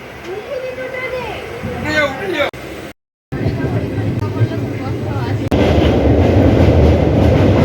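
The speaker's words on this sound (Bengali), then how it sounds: "আমাদের ট্রেন ছাড়লো" A departing express train rumbles and rattles steadily with a clattering wagon noise, the roar growing louder toward the end while people talk over it.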